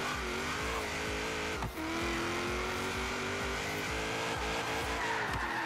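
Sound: Dodge Dart car drifting, tires squealing in Forza Horizon 3 video game

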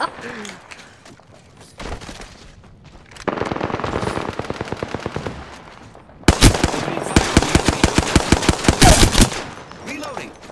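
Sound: enemies shooting guns in a video game

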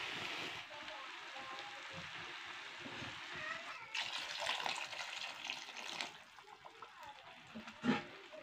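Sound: water being poured into fried masala for fish curry

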